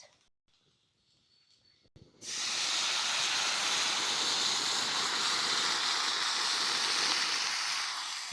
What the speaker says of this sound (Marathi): आता पाणी वतायचं.